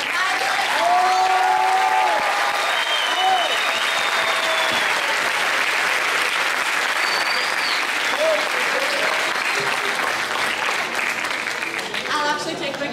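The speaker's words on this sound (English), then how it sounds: "let's first have a round of applause for all the Genius Olympiad fabulous" An audience at the Genius Olympiad 2012 closing ceremony applauds, a steady, sustained wash of clapping with some crowd voices and whoops, continuing for the whole stretch.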